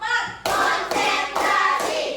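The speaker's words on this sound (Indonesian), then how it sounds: "Tepuk 1, tepuk 2, tepuk 3, tepuk 4," A group claps in a counted rhythm during a classroom or workshop session, with sharp, loud bursts of clapping that come in roughly even beats, each ending before the next begins.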